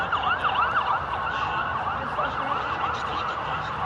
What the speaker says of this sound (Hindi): जेरूसलम की सड़कों पर एम्बुलेंस की लगातार आवाज सुनाई दे रही है